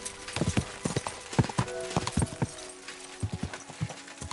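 Horse hooves clip-clop in Kingdom Come: Deliverance 2, a steady run of close, fairly loud hoofbeats with a brief pause near the end before the rhythm picks up again.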